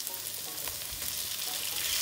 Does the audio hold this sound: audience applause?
no